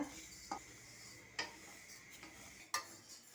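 Sambar powder spices are dry-roasted in a pan on a stovetop, with faint, sparse scraping clicks of a spoon against the pan over a quiet background.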